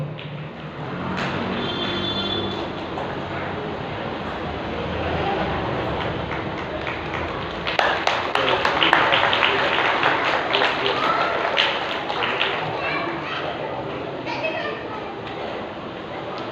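An audience at a Bhagavat Katha religious gathering claps to welcome a guest, a dense, sustained wash of applause that swells in the middle, heard under someone speaking over a microphone.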